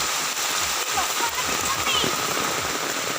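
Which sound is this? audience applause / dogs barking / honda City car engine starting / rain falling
rain falling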